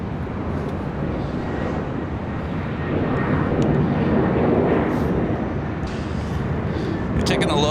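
A Southwest Airlines Boeing 737-700 arriving at LAX, its engines a steady broad roar that grows slightly louder midway, with a voice talking over it.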